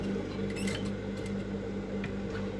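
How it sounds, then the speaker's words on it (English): A sewing machine back-stitching elastic onto the waistband of a ruched skirt, a steady close mechanical whir with a faint rhythmic needle patter running throughout. "first of all, back stitch to hold it in place"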